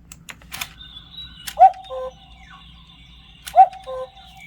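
The wooden bird mechanism of a ROKR 3D puzzle cuckoo clock gives two separate chirping calls about two seconds apart, each with a sharp tweet and a short tail, among soft clicks and handling noises.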